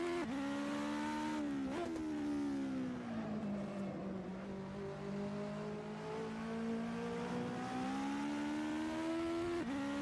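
Race car engines from the Assetto Corsa driving game drone steadily through a long stretch. The pitch rises and falls with each shift, along with brief revving surges and the whine of a car passing close by.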